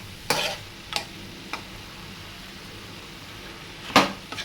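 Chopped tomatoes are stirred into a cooking mixture in a pan, with a few scattered scrapes and clinks of the spoon against a faint sizzle, the sharpest stroke near the end.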